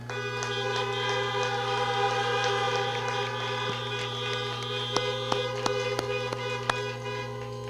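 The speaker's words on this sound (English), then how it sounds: "Let's give all three of those amazing students one more loud honk." Several car horns blare together in a sustained chorus at a drive-in graduation ceremony, with a few short extra honks and taps standing out near the end.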